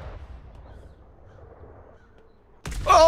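Cannon fire in the pirate video game Atlas: a low rumbling background, then a sudden loud booming blast near the end that rings on at full strength.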